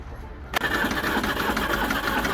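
A Land Rover Series III engine, fitted with a new battery, bursts into life after a brief quiet moment, then runs on with a steady, pulsing mechanical clatter close by. No one speaks.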